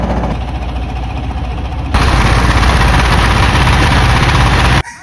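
A boat engine idles steadily on a river as the boat pulls in to dock. The low rumble jumps louder partway through, holds a constant drone and then cuts off abruptly near the end.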